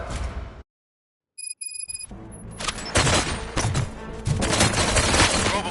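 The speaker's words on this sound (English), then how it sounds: "Gunshots? What's going on?" In RoboCop: Rogue City, a sudden silence, then electronic beeps give way to loud, dense bursts of gunfire, rapid and continuous, with booming impacts.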